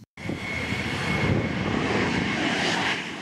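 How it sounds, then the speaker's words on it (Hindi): Fighter jets, including an F-16 and a Tejas, roar past in a steady, loud, broadband rush of engine noise that swells slightly and holds for a few seconds without voices. "अमेरिका के लड़ाकू विमान F-16 और वायुसेना के तेजस समेत कई लड़ाकू विमानों ने इसमें हिस्सा लिया"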